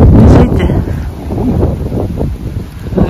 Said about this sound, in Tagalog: Hangin talaga ngayon.